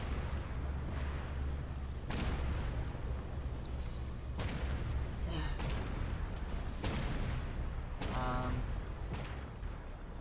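Tank cannon fire in a video game, several heavy booming shots spaced a second or two apart, with a Leopard tank under focused fire, over a steady rumbling background with a voice talking.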